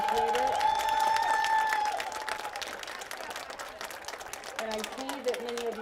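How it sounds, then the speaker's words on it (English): A graduation ceremony crowd, the 2021 MCK DARE graduation, applauds its graduates with sustained, dense clapping, while voices and children's calls carry over the steady wash of hands. "join me in a round of applause for all of our graduates"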